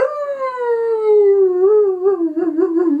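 A dog howls in one long, drawn-out wail that slowly falls in pitch and wavers toward the end, clear and alone.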